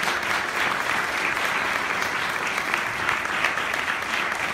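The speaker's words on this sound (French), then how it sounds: "je vais vous demander de vous applaudir bien fort" Conference audience applauding guests at a talk on hip hop and advertising, a dense steady wash of clapping from a large crowd, even in loudness throughout with no speech over it.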